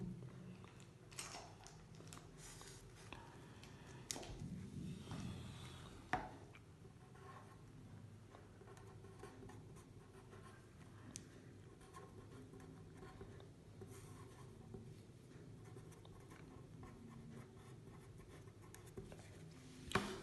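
Soft scratching of a pen writing down a page number on paper during a physics lecture, faint and close, with small taps and rustles and no speech.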